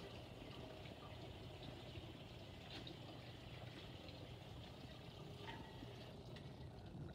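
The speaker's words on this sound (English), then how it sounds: "I'll turn the water back on for a rinse." A tap runs for a hand rinse, giving a steady, soft rush of flowing water that continues evenly without pause.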